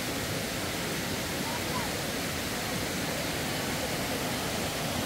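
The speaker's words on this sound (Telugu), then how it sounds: "వాటర్ ఫాల్స్ సౌండ్ అయితే క్రేజీ వినిపిస్తుంది" A waterfall near the Riwai living root bridge in Meghalaya roars as a constant, dense rushing of water, steady and unbroken throughout with no distinct individual splashes.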